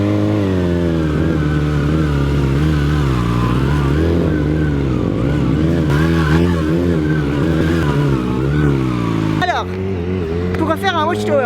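A 636 sports motorcycle engine idles with a loud, close, steady throb that sags slightly and slowly climbs back, then gets a few sharp revs near the end.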